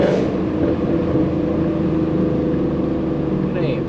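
A Ford Mustang GT with a newly fitted exhaust pulls hard under acceleration, its low engine drone steady and loud throughout from inside the car, with a voice speaking over it.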